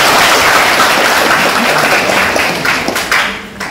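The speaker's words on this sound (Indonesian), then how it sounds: "Tepuk tangan untuk kita semua." A crowd of university students claps at the opening of a student leadership training event, loud and continuous applause that thins out and fades near the end.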